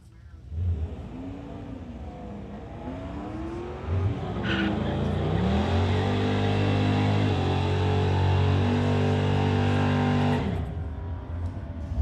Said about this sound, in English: 72 Buick running a 455. I think he's from North Vancouver going against the Camaro, the red Camaro.